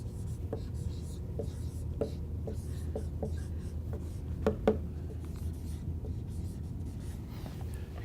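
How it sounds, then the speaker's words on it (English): Pencil lead scratching across paper, a steady soft scraping with a few sharper ticks, faint and close over a low room hum. "I have to use a lead pencil on there"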